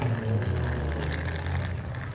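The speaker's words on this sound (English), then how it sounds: "That sound is motorbikes." Motorbikes rev at a car show in Llandudno, giving a dense, rumbling engine roar with no gaps, fairly loud and with no talk over it.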